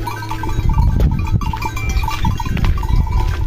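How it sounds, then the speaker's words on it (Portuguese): Goats out in scrubland pasture, productive breeding does among them, with loud, dense livestock sounds across the clip and bleat-like calls rising over a busy low background. "Cabra muito boa, viu?"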